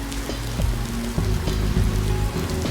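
Steady rain from the Densha De D train racing game, a dense continuous patter at even loudness with a faint repeating mechanical hum and periodic thumps underneath, no voices.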